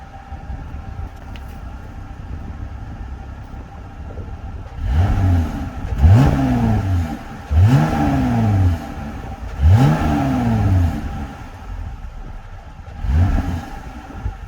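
Stock engine of a 2021 Jeep Gladiator pickup revving in four or five separate blips, each rising sharply and falling back, over a steady idle rumble. The revs are loud and close, with no talking.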